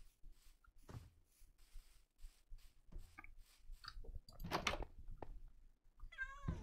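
A Minecraft cat meows a few times, faint and spaced apart, among quiet clicks and small game noises, with a longer wavering mew near the end.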